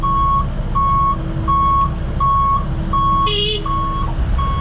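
Evenly spaced electronic reversing beeps from an 80,000-pound truck at a remediation job site, loud and close over a constant diesel engine drone, with a brief hiss near the end.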